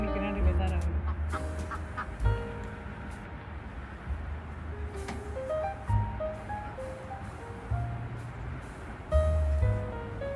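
Ducks outdoors during a snowfall give a series of nasal, honking quacks, some louder bursts and some fainter calls, spread over about ten seconds.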